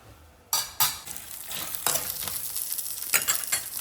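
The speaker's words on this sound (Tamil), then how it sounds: "பூண்டு, இஞ்சி, வெங்காயம்லாம் போட்டு வதக்கிட்டேன்" Garlic, ginger and shallots hitting a hot pan burst into a loud sizzle after a quiet start, followed by repeated scraping stirs and crackling that keep up close and strong.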